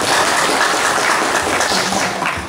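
Loud, sustained applause from delegates filling the hall at a district ornamental-plant association congress, a dense, steady wash of clapping that holds at full strength from start to finish with no voices over it.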